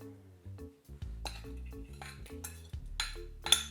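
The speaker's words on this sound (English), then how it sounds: "All right, I will mix this" Coffee cake batter with brown sugar and buttermilk being mixed in a bowl, a utensil clinking and scraping against the sides in a quick, uneven rhythm, close and fairly loud, with no talking.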